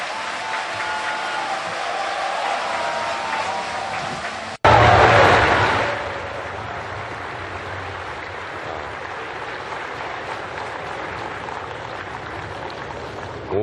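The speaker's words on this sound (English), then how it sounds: "May I suggest a round of applause for His Excellency President Xi Jinping" Applause from a large audience at the APEC business summit welcoming Chinese President Xi Jinping, a sudden dense burst of clapping that swells briefly then settles into a steady, sustained wash of hands in a big hall.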